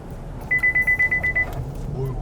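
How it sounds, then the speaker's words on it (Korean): A rapid series of about eight sharp, high-pitched electronic beeps from a Chevrolet Colorado's forward collision warning during hard braking sounds over a low road and engine rumble, then stops. "급제동을 하는 바람에 전방 추돌 경고 장치가 작동을 했죠"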